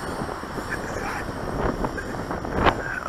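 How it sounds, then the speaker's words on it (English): Wind gusting across a microphone during an outdoor flight of a WLTOYS Q393-A quadcopter drone, a steady broadband rush that swells near the end, with faint hints of talk underneath. "here comes the wind."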